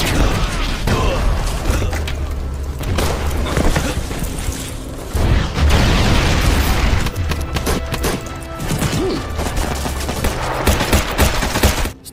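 A fierce firefight with militia fighters in a war film set around a Soviet bunker: sustained bursts of gunfire and crashing impacts rattle on loudly and densely for the whole stretch, with brief lulls between volleys.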